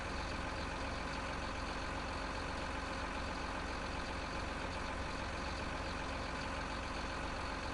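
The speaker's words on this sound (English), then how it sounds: "Oh, yeah, the engine brake sound." A steady, low engine drone from a truck's engine brake in the Farming Simulator 19 game on PS4, set in a forestry map, droning on evenly at a constant level throughout with no voices over it.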